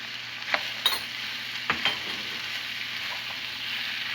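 Diced potato, carrot and cauliflower fry in hot oil with a soft, constant sizzle. A few light scrapes of stirring cut through it, quiet and close by, with no talking.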